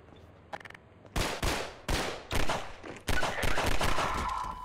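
Gunfire in the video game Half-Life 2: four or five loud, close bursts of shots, each a sharp crack with a ringing tail, the last one running into a sustained roar.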